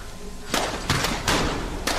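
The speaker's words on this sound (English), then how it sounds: "Where are the gunshots coming from?" Gunfire in a Resident Evil-style horror shooter game: about five sharp shots in an irregular burst, loud and close, over a low ambient hum.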